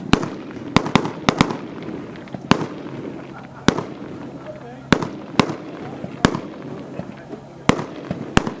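A firework cake fires a rapid string of sharp bangs at an outdoor display, irregular cracks and booms echoing, with people talking in the crowd.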